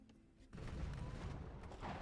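Petards blast a wonder in Age of Empires II, a faint rumbling burst of crumbling explosions that starts suddenly and rolls on for over a second, with no talking.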